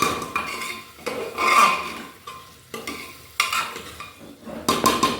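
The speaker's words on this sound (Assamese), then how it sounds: "অলপ সময় লৰাই ভাজি থাকিব" Vegetables stirred and fried in a pot, with a spatula scraping and clinking against the metal in uneven strokes over a low sizzle. The sound is close and moderately loud, with no talking.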